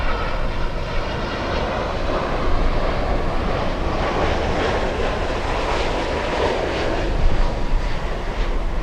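A Lufthansa jet taxiing at Miami International Airport, bound for Frankfurt, gives off a loud, rushing engine roar with a gritty, wind-buffeted texture. The roar swells slightly midway and again near the end.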